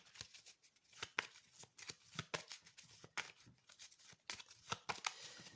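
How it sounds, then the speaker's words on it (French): Playing cards are handled and placed back on top of the deck, a close, quiet run of crisp irregular snaps and slaps with no talking. "on remet les cartes par-dessus"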